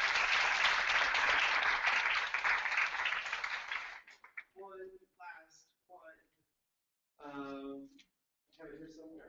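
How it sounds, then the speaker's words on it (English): Audience applause at a service celebration event, a dense burst of clapping from a crowd lasting about four seconds, then stopping as people begin talking. "a little round of applause for the USA."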